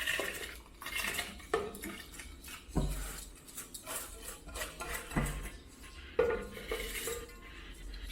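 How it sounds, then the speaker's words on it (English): Grains of rice pour and clatter into a metal pot for Jamaican rice and peas, with scattered clinks of a utensil against the pot and a few sharper knocks, close and fairly loud, no talking. "Okay, so now we're gonna add in our rice."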